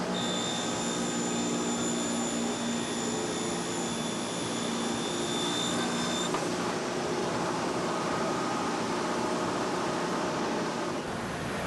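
A fret slotting jig in the PRS guitar factory cuts slots in a fretboard, a loud steady machine whine and roar with high tonal hum that shifts partway through, constant throughout with no talk.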